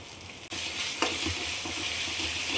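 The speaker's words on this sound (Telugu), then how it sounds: "ఇప్పుడు టమాటాలు ఉల్లిపాయలు కూడా బాగా వేగినాయండి. అల్లం వెల్లుల్లి పేస్ట్ వేస్తున్నానండి నేను." Ginger garlic paste frying with tomatoes and onions in a pan for vegetable pulao: a steady, loud sizzle that jumps in after a brief dip, with light stirring scrapes.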